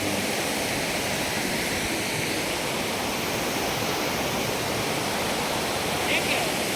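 Steady, dense rush of falling water at Thirparappu waterfall during low flow fills the whole clip, a constant broadband roar with no pauses, fairly close and loud.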